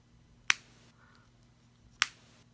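An AirPods wireless charging case lid snaps shut twice, each a sharp, loud click standing alone in a quiet room about a second and a half apart.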